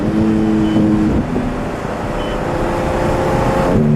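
A 2023 Porsche 718 Cayman GT4 RS Weissach Package engine drones loudly and steadily from inside the car, its pitch shifting slightly as it drives.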